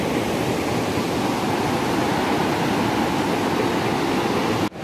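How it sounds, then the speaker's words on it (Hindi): Bhagirathi river at Devprayag in Uttarakhand roars loudly below a bridge, a dense, steady wash of rushing water that fills the whole stretch without a break, heard alone. "नीचे से बह रही है भागीरथी नदी"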